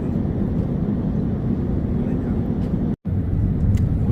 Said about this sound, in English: We are descending and about to land.